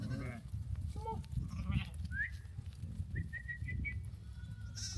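A sheep bleats among farm livestock, with a few short bleats and calls over a low, steady rumble of background noise, and no talking.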